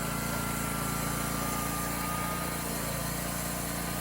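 Engine of a homemade sawmill running steadily, a constant droning buzz with a faint whine, moderately loud and unbroken, with no voices.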